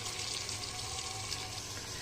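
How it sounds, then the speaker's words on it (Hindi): Hot water pours steadily into a pan of frying spinach and meat for a Kashmiri palak dish, a continuous close splashing rush with no talk. "तो अब डालने वाले हैं हम इसमें पानी, गर्म पानी"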